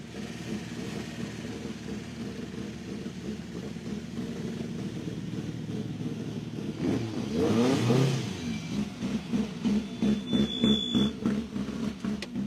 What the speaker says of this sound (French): Le numéro 222 avec la 309 GTI qui arrive